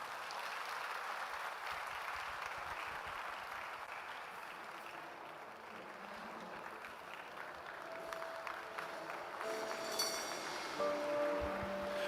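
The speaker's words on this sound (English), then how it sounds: "Ladies and gentlemen, a round of applause." Audience clapping fills a civil service week celebration and awards ceremony in Ghana, a steady sustained wash of applause with crowd murmur that continues throughout, swelling slightly near the end.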